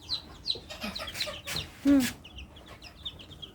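Adult chickens near their chicks cluck softly in short, scattered calls, with one louder squawk midway over a light background of farmyard noise.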